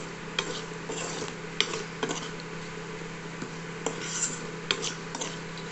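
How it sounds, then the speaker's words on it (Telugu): Onions and rice being stirred in a pan, a soft low sizzle under scattered light scraping and tapping strokes of a spoon, faint and close, with no talk. "అన్నీ కలిపేసి ఒక మళ్ళీ టూ మినిట్స్ పచ్చితనం పోయే వరకు కొంచెం కలుపుతూ ఉండండి ఉల్లిపాయలు మాడిపోవద్దు"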